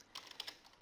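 Quick bursts of keystrokes on a computer keyboard while entering ASP.NET code for a webshop, several close clicks in an uneven rhythm over near silence.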